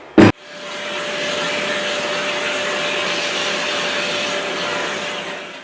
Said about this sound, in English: I'm going to use my Festool extractor to clean this bin on the inside.